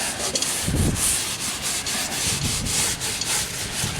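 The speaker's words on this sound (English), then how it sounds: "So we're literally just going to wipe the inside of our cast iron." Oil is rubbed around the inside of a cast iron pan, giving a close, steady scrubbing and rubbing sound with rhythmic strokes about every half second.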